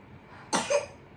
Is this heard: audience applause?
no